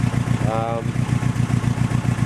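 A rough, loud Toyota Corona ST141 engine idles through a cracked straight-through exhaust with a rapid pulsing chug, raw and unmuffled, while a brief voice-like tone cuts in near the start.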